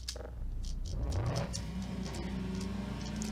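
A video game car engine revs up and pulls away, its hum rising in pitch and then settling into a steady drone with some rattling.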